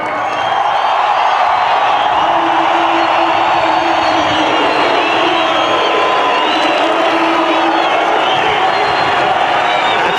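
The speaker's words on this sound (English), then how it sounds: "listen to the crowd reaction" Crowd at an A1GP motor race in Portimao cheering and roaring loudly and continuously, a dense sustained wall of noise with occasional rising whoops.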